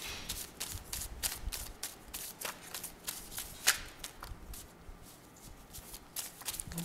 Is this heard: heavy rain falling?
no